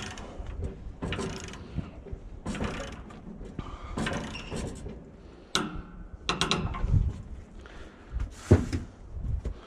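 A Woodland Mills portable sawmill blade turned slowly by hand, giving a series of scattered mechanical clicks, ticks and soft clunks with irregular spacing, close and fairly quiet.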